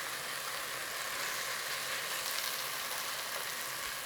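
Steady, close sizzle of spices frying in a hot pan (Kashmiri chili, cumin and hing), a continuous hissing texture with no talking over it.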